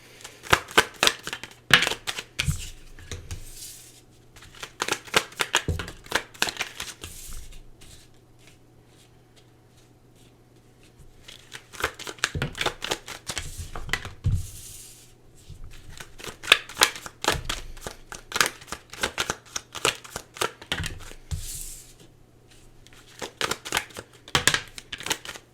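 Tarot cards being shuffled and pulled, with repeated bursts of fast riffling and flicking separated by quiet pauses, close and clear with no talking.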